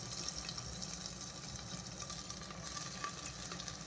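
Onion and green chili fry with garlic in a pan, giving a continuous dense sizzle with light stirring movement underneath, close and steady.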